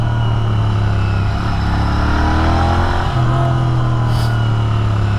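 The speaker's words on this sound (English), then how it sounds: "Now listen to the decel sound of this thing." A Royal Enfield GT650 motorcycle's exhaust rumbles steadily on deceleration, its engine tone sliding lower and then settling into a firm, loud burble recorded close by while riding.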